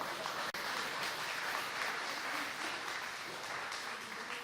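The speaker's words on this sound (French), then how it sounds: "on peut l'applaudir également" Wedding guests applauding at a reception, a faint, dense wash of clapping heard from a distance, steady throughout with a tiny gap near the start.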